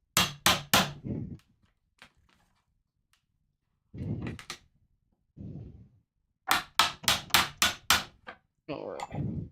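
A mallet striking a chisel into wood while building a bellows: bursts of loud, close, rapid blows in groups of three to five, separated by pauses, with a softer scraping knock between groups.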